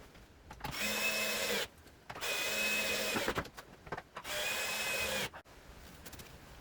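A power drill drives screws through a glued wooden support piece into a couch frame during a repair, with three sustained whirring bursts separated by short pauses, close and fairly loud.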